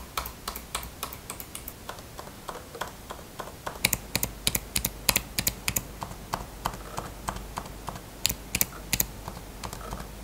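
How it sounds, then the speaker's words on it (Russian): Fast typing on the keyboard of a 2019 Apple MacBook Pro 15 with i9, a dense run of soft, muffled key clicks close to the microphone, quickening after a few seconds, with no talk. "когда ты печатаешь быстро, шум у 19 года, он такой глухой"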